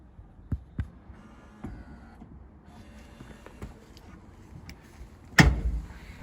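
A retractable tow bar on a Volvo V60 R-Design is pushed back up behind the bumper: a couple of faint clicks, a quiet stretch, then one loud, close clunk as it locks into place.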